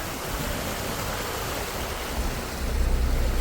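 Torrential floodwater after heavy rain, with a dam overflowing, makes a dense, continuous roar of rushing water. It stays loud and steady from start to finish and swells slightly toward the end, with no speech over it.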